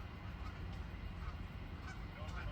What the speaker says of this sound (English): like geese are getting crazy. They're starting to fight each other.